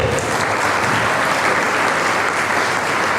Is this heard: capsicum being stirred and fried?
no